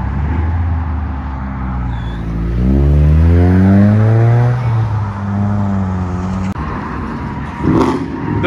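A Ford Mustang revs hard while spinning donuts, its loud close engine rising and falling in pitch through repeated throttle sweeps, with a sharp burst near the end.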